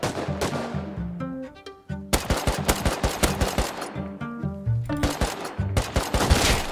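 Rapid AK rifle fire rattles through a raid in a survival video game, long sustained automatic bursts broken by a brief pause, loud and close with a ringing tonal layer running underneath.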